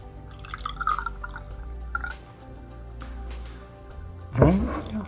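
Water Avenue top shelf cold brew coffee poured from its container makes a brief wet gurgle and splash near the end, following quieter liquid dribbles and drips close by.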